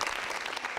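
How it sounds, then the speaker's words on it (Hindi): A brief burst of audience clapping, dense and steady, fills the moment at a quiz show, with no voices over it. "पहले तो तालियां बजाओ साहब राजस्थान के इस गौरव के लिए जो आपने दिलाया है"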